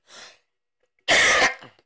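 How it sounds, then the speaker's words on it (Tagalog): A person with a cold lets out one loud, sharp cough, just after a faint breath, then a short trailing exhale. "Sorry, naubo ko."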